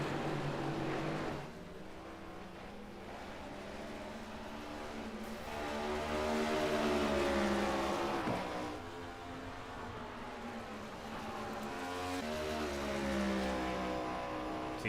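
Race cars circle the track at Richmond in an A2 Cup Series event, a steady engine drone that swells and fades as cars pass, shifting pitch through the laps.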